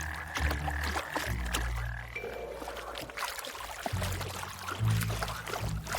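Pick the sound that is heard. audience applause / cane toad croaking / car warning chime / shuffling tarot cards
cane toad croaking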